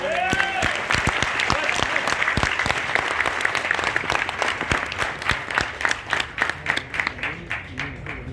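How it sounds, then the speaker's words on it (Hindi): An audience bursts into sustained applause, dense and loud clapping from many hands, thinning toward the end into more distinct individual claps. "तालियां बजाओ एक बार"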